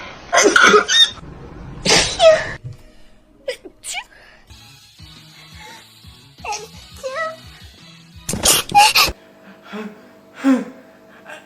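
Two loud, sharp sneezes burst out near the start, followed by quieter murmurs and breaths, then another strong sneeze and a softer gasp toward the end.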